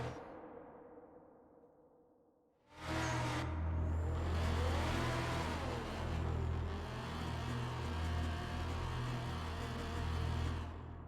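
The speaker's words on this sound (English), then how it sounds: "And this is the tire warming up feature of the game." After a quiet start, a street racing car in the Night Runners game suddenly revs hard and holds a loud, steady engine roar with a few pitch swells to warm its tires, with no talk over it.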